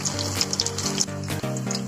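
Potato pakoras frying in hot oil give a steady, dense sizzle with small crackling pops throughout, close and continuous with no voices.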